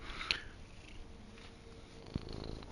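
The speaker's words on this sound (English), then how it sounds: "I have a kitty again." A cat purrs softly close by, a low, steady rumble under faint background noise, broken by a couple of small clicks.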